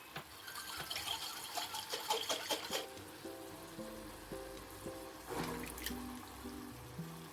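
Water poured from a tap into a jar and swirled, then added to tomato pasta sauce in a pan, a faint close trickle and sloshing in a quiet kitchen.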